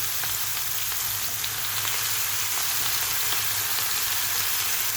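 Oyster mushrooms fry in a hot pan, a dense, continuous close sizzle with a fine crackle that holds steady throughout, with no talking.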